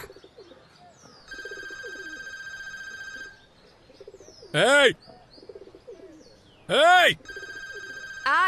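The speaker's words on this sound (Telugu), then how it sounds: "ఫోన్ తీయండిరా." A telephone rings in repeated electronic trills, broken by loud, rising-falling bird calls and background voices.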